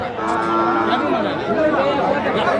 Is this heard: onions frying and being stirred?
no